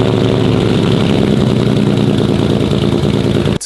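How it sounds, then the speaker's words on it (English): A loud, lumpy idle from a lowered Porsche with an uneven, loping exhaust burble, steady and close, cutting off abruptly at the end. "The exhaust is crazy loud and lopey."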